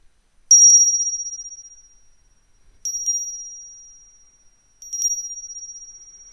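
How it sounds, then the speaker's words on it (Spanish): Meditation bell struck three times, about two seconds apart, each a bright high-pitched ring that decays slowly into near silence before the next strike, clear and alone. "deja que el sonido de esta campana ordene tu energía"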